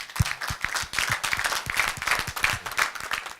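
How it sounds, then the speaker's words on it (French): A small group applauds at an association general meeting, individual claps distinct and irregular rather than a smooth roar, fairly close and moderately loud for a few seconds. "on va vous applaudir"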